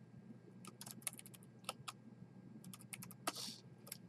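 Keys on a computer keyboard clatter in quick, irregular bursts of close, crisp clicks over a faint steady hum, with brief pauses between runs of typing.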